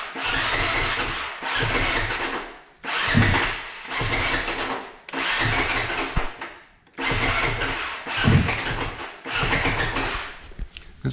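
Honda CRF450RL motorcycle engine cranking over and over in repeated bursts of several seconds each with short gaps between, loud and close, struggling to catch without settling into an idle.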